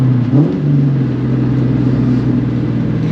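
A 1999-2004 Ford Mustang exhaust rumbles steadily with a brief rev near the start, a deep, close, continuous engine drone while cruising in fourth gear with the windows up.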